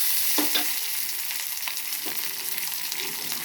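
Dried red chillies and onion frying in hot tempering oil for a spinach dal, a steady close sizzle with a few soft stirring scrapes, no voices.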